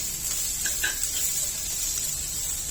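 Thinly sliced onion frying in a spoonful of oil in a pan on a gas stove, a steady close hissing sizzle with faint crackles, constant throughout with no talking.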